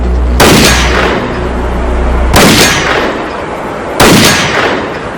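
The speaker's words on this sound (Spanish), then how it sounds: "Vamos a hacer unos disparos a ver lo rápida que es esta munición" Three loud, sharp gunshots fired through a chronograph to measure ammunition speed, evenly spaced about two seconds apart, each with a brief ringing decay.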